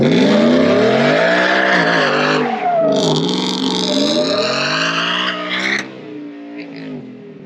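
A Ford car revs hard and accelerates at a dealership, its engine note loud and close, climbing then dropping abruptly at a missed gear shift before surging again and fading.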